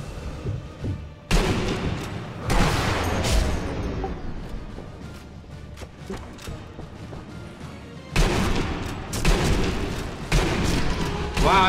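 Gunfire and heavy booming shots in the Sniper Elite co-op video game, coming in loud clustered bursts separated by quieter gaps, with crashing impacts and some speech beneath.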